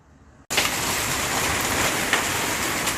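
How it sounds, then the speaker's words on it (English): Heavy rain mixed with ice suddenly pours down during a short storm, a dense, loud, steady hiss of drops and pellets that starts abruptly and continues without a break. "It's raining with ice, yeah."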